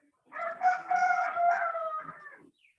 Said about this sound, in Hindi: ये सर मुर्गा किसके यहाँ बोलता है?